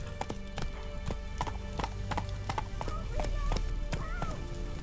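A horse gallops in the video game Witcher 3: Wild Hunt, with quick, rhythmic clip-clop hoofbeats held at a steady pace over faint game background sound.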